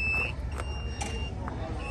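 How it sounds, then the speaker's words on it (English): A vehicle door chime beeps while the engine idles, with a few short electronic tones over a steady low rumble. "we got a lot of beeping going on here, but part of it's the door chime"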